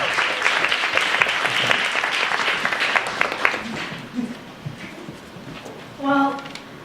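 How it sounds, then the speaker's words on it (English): An audience applauds a woman introduced as Ariel at a storytelling event, steady broadband clapping for about four seconds that thins out, followed by a brief tonal sound near the end. "So give her a big round of applause,"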